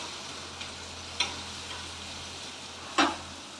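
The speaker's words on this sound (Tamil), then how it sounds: "மூணு தக்காளி கட் பண்ணி வச்சுருக்கேன் தக்காளி நல்லா வதங்கட்டும்" Cut tomatoes sautéing with onions in a pan, a low continuous frying hiss broken by two sharp ladle taps or scrapes, close and without speech.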